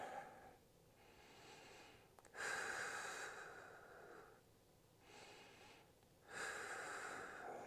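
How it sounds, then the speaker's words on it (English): Steady breathing during a yoga pose, with slow rhythmic inhales and exhales rising and falling about every two seconds, close and clear with no talking. "So just finding some nice steady breathing."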